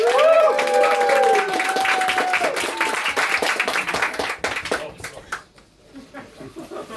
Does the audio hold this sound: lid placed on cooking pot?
no